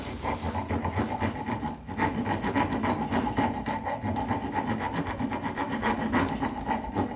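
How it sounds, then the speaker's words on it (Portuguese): A wood rasp files steadily back and forth to round the edges of a wooden tenon, producing continuous loud, coarse scraping strokes at close range with no talking. "Ou eu faço isso, eu quebro com a própria grosa."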